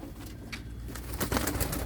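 Muradiye Dönek pigeons being flown near their coop in Bursa, with soft cooing and bird calls against a steady, noisy outdoor background, growing busier and louder toward the end.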